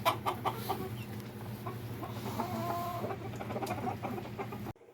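Small chickens cluck softly as they settle into a coop loft for the night, a steady murmur of close, quiet clucks and chirps that cuts off at the end.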